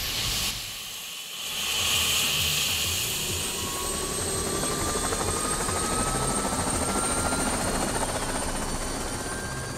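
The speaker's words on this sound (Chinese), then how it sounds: "我们今天要带您乘坐直升机鸟瞰整个香港" Helicopter flying over Hong Kong, a loud steady rotor and engine drone with hissing turbine whine, heard close as from inside or near the aircraft, continuous throughout without talking.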